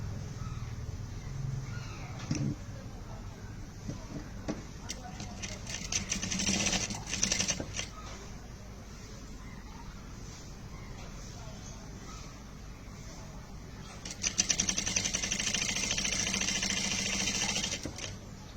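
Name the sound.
sewing machine stitching a skirt seam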